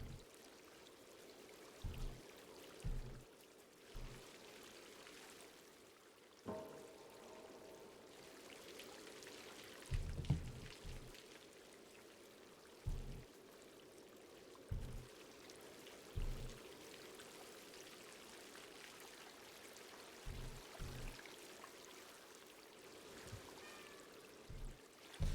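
Water pours and trickles in the video game Stray, a faint steady stream running throughout with soft intermittent thumps scattered over it.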